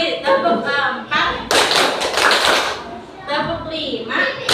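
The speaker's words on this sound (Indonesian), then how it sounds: "Ulangi, tepuk empat" Children in a classroom clap a short rhythmic pattern of sharp hand claps, loud and close, with voices around it.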